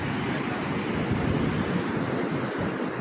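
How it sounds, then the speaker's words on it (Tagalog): Strong ocean waves and surf, a loud continuous wash of breaking water with some wind buffeting, close and steady throughout with no voices. "Lakas ng alon."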